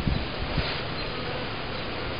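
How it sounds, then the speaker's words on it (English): A steady, close insect buzz of honey bees on top of an open hive during an inspection fills the whole stretch at an even level, with a few soft low bumps near the start and no voices. "Just have a few bees on top"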